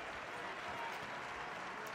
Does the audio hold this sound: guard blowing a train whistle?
no